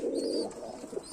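Fulshira pigeon cooing, a soft, low, rolling coo held close and mostly alone at moderate level.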